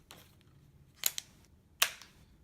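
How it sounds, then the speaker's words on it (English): Two sharp, dry clicks about three-quarters of a second apart, the sound of an AR trigger in a jig being dry-fired. Each snaps quickly and then fades into a quiet background, with no talking. "It's a softer thud, but the thud is still louder, and I still feel the vibration through the grip."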